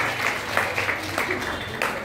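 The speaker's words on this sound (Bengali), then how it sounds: "করতালির মধ্য দিয়ে আমরা স্বাগত জানাই হার্দিকভাবে।" Audience applause at an ICDF welcome ceremony, a brief steady patter of clapping from a crowd lasting a couple of seconds, heard without speech over it.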